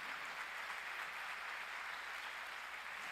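Steady church congregation applause fills the whole stretch, a dense even patter of many hands clapping with no talk over it.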